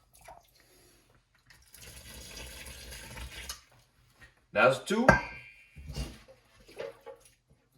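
Body-temperature warm water, about 98.6 degrees, is poured from a cup over a homogenized flour mix for bread, a short splashing pour that starts and stops around a few words of speech.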